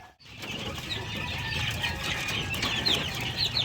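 Chickens and chicks on a farm, with steady close clucking and high cheeping chirps over a busy background of wing flutters and shuffling, and no one speaking.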